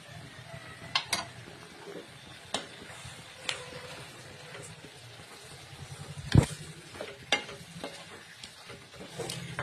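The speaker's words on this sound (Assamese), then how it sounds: "গোটেইখিনি মই সংমিশ্ৰণ হোৱালৈকে মই এনেকৈ মাৰিছোঁ" Chicken is stirred in a pan with ground cumin and coriander powder, a soft continuous sizzle under irregular scraping strokes and a few sharper clicks of the spoon against the pan, close by, with no talking.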